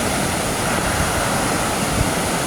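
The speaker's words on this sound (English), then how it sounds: "It's a bit windy." Wind blowing hard outdoors beside a river near old railway bridges in Weardale: a steady, loud broadband rush of wind noise with no talking.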